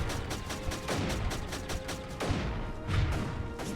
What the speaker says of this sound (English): Build a couple more cannons and a bunch of mortars.